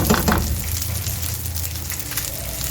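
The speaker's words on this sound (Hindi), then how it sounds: "मक्खन को आपने अच्छे से मेल्ट होने देना है।" Butter melting in a hot pan for Shinwari chicken gives a steady, close sizzle and crackle that carries on without a break, with a few louder spits near the start and no talking.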